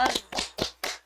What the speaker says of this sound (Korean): 정말 박수가 절로 쳐지고요